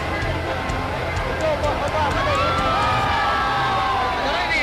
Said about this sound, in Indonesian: Di sepanjang jalan, mereka disambut gemuruh tepuk tangan dan pekik merdeka dari ribuan rakyat yang telah